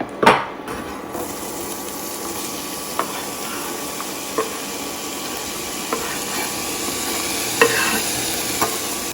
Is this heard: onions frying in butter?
yes